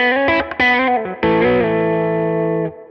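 Distorted electric guitar on a Les Paul-style instrument with the humbucker and middle pickups combined, a few quick picked notes then a sustained ringing chord, loud and close with effects and no talking.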